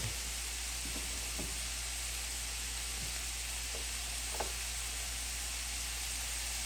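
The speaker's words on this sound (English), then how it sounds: "now that we have cooked this for about 3 or 4 minutes, you can see the oil's coming out and the andouille is very aromatic" Andouille sausage fries in oil in a pan, producing a soft, continuous hiss with a few faint pops and stirring ticks in an otherwise quiet kitchen.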